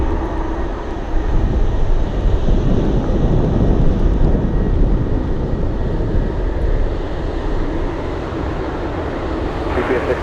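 A jet airliner flies along the bay on approach to runway 6 at Elmendorf, its broad engine roar steady and fairly loud throughout, mixed with gusty wind buffeting the microphone.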